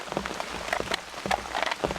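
Rain patters onto a blue Home Depot tarp shelter at a campsite, irregular close drops tapping and splattering on the taut plastic.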